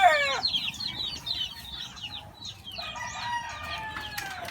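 Chickens and roosters at a Cherry Hills poultry yard, with a rooster crowing near the start and again later, over busy overlapping clucks and bird calls and a steady outdoor background.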